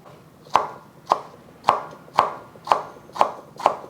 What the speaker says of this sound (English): I'm just gonna slice it into slivers.